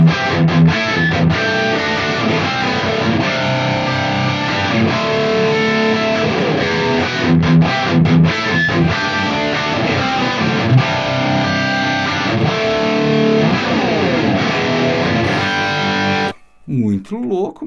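An electric guitar plays through a NUX MG-300 processor with reverb and delay removed, leaving a dry, distorted, loud tone in continuous riffing that cuts out abruptly near the end.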